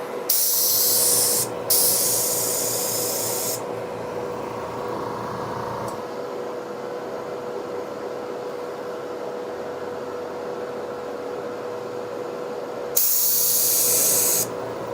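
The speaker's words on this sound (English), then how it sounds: "start kind of spraying like this on this cardboard so I can actually see" An airbrush sprays paint onto cardboard while a 3D-printed Umbreon figure is being painted, giving loud steady hissing bursts that stop and start, over a constant low compressor hum and with no speech.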